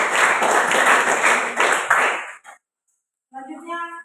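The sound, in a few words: audience applause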